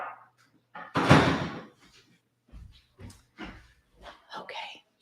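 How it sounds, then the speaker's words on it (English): Indoor door pushed shut with a sharp, loud slam, followed by quieter knocks and a voice speaking nearby. "Let me close that door."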